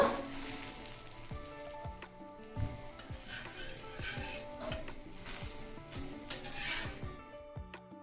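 Oats and coconut dosa sizzles on a hot pan, with a continuous crackling fry overlaid by intermittent metallic scrapes and taps of a spatula or utensils.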